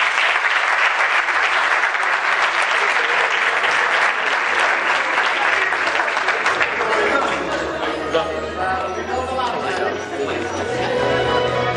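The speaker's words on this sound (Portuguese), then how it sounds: "uma grande salva de palmas para eles" Dense, loud applause fills the hall at a first association gala in Mação, steady for several seconds, then easing as chatter and a voice come through beneath the thinning claps.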